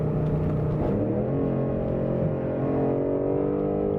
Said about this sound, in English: So we have the sport exhaust on. It sounds very good